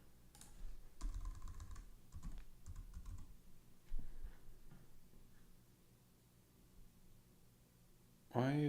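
Keystrokes tap in quick, irregular bursts on a computer keyboard, close and fairly quiet, with pauses between runs and a person speaking briefly at the very end.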